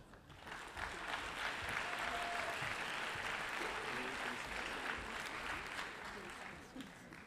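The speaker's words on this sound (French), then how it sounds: "Qu'on peut applaudir encore, évidemment" An audience at a diploma ceremony applauds the graduates in a steady, dense round of clapping that holds throughout and fades slightly at the end, with a voice faintly audible beneath it.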